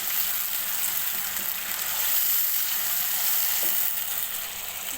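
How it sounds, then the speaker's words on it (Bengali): A ginger-garlic spice paste sizzles in a pan after water is poured in, giving a steady, loud hiss that holds constant throughout, with faint scraping underneath. "এর মধ্যে আমি দিয়ে দিব সামান্য পরিমাণে পানি।"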